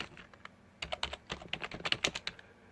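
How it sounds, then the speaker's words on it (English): Fingers tap a computer keyboard in quick, uneven bursts of crisp clicks, close and clear, with no talking. "I'm going to execute the program by typing in Turbografx-E"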